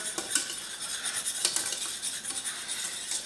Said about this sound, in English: We're going to go ahead and stir.